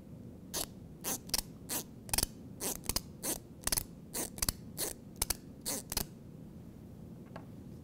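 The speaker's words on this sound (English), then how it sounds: "use a pen or a pencil or a plastic knife to scrape it across the rib part of whatever object you choose and do it in a rhythmic way like this" A pen is scraped rhythmically across the ribbed part of an object, used as a jug band percussion instrument: about sixteen quick, evenly paced rasping strokes, close and clear against quiet, then it stops.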